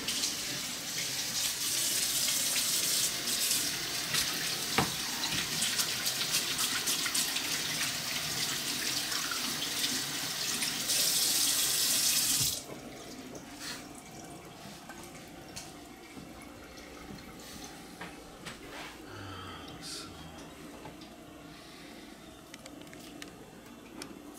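Tap water runs steadily as hands are washed under it at a kitchen sink during food prep, a broad constant rush that stops abruptly about halfway, leaving quieter room noise.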